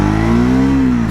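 Triumph Scrambler 400X or Yezdi Scrambler motorcycle engine running and revving up in first gear, a steady loud close-up drone with rising pitch throughout.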